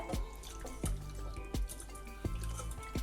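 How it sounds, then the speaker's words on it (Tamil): Tamarind is squeezed and dissolved by hand in warm water, making wet squelches and drips that repeat roughly every second in a soft, close rhythm. "இப்போ புளியை கரைச்சிக்கலாங்க"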